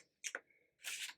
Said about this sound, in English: So I'm going to begin shuffling that deck.